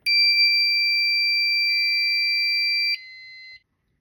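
A fire alarm control panel, a Fire-Lite MS-5UD, sounds a loud, piercing alarm tone continuously, then cuts off in two steps on system reset, leaving silence.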